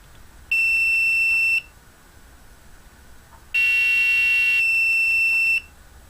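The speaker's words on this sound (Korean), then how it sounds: "부저가 이제 울린다는 얘기죠" Arduino piezo buzzer sounding two steady electronic tones, each lasting about a second or two with a gap between, loud and close with no other sound.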